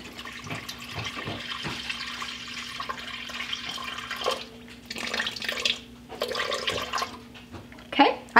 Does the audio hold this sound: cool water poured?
yes